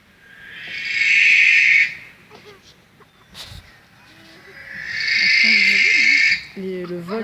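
Barn owl screech played back over a sound system during a bird-of-prey flight show at a zoo: two long, loud, harsh hissing shrieks with a pause between them. Faint voices and other animal calls can be heard in the background.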